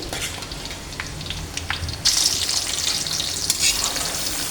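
Garlic frying in hot oil for a sweet, sour and spicy mango pickle, a steady close crackling sizzle that grows louder and brighter about halfway through, with no voices.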